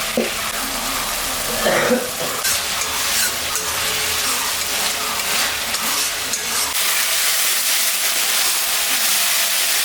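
Hot oil sizzles and crackles steadily as turmeric, tomato and spices fry, with occasional stirring scrapes early on, close and fairly loud throughout.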